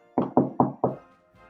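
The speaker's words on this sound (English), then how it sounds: "You can hear a knock through a wooden door." Four firm, evenly spaced knocks on a wooden door, close and resonant, followed by a brief quiet tail.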